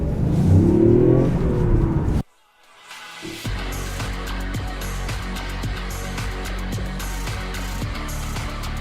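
A Toyota Yaris GR revs loudly, then cuts to near silence before a steady mechanical drive sound with rhythmic ticking takes over, close by.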